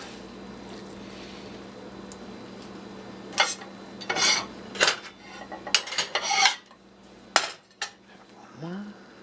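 A knife cuts a ham steak in half on a board, giving a few sharp knocks and scrapes in uneven clusters, close and fairly loud over a quiet kitchen hum.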